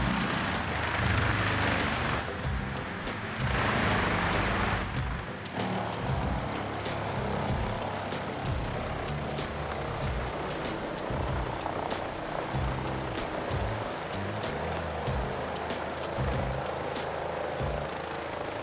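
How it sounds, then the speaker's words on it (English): A Bandit whole tree chipper chips entire trees, a dense, loud, continuous engine roar with deep rumbling and grinding that surges in the first few seconds and then holds steady throughout. "the Bandit whole tree chipper can effectively chip entire trees"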